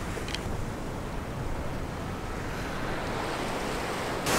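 Ocean surf rolls in at a large jetty in Orange County, a steady broadband wash of waves mixed with wind buffeting the microphone, continuous and fairly loud with no voices.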